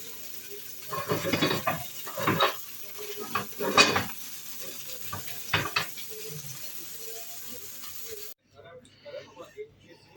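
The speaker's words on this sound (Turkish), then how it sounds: "Annem e, balık kızartıyor." Oil sizzles as fish fries in a pan, with bursts of crackling and stirring scrapes; voices talk over the cooking.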